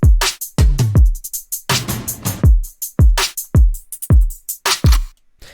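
An electronic drum loop of punchy kicks, snares and hi-hats, with toms widened by a filter delay, plays loud and close in a tight repeating pattern.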